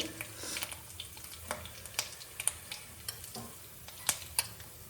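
Crackling sizzle of frying in hot oil, a steady bed of hiss broken by frequent sharp pops and spits, close and continuous, with a faint voice in the background.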